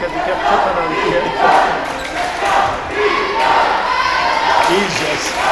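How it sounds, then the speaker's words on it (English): Crowd at a school basketball game, with a loud, continuous roar of cheering and chatter filling the gym, swelling and easing in waves, with occasional thuds mixed in. "Crowd getting into this."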